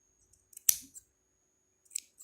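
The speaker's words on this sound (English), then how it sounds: "You get your scissors, very sharp one." Sharp scissors snip through a crochet yarn pom-pom with one crisp close cut, followed by a few softer, quiet clicks of the blades.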